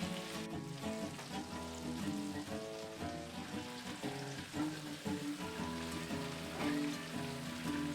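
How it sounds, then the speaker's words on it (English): Bacon strips sizzle under a bacon press on a Blackstone griddle, a faint, even crackle like light rain mixed under steady background music, with no talking. "Put a little bacon press on there, help them cook a little bit faster and"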